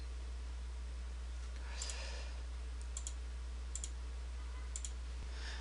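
Four faint, sharp computer mouse clicks while working in Revit, spaced about a second apart over a steady low hum, with no talking.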